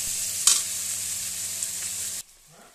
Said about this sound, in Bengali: এগুলোকে এবার ভালো করে আগে ভেজে নিচ্ছি।